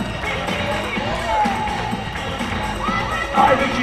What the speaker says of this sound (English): Let's hear it, fans. Let's say, hey, come on, let's cheer it on.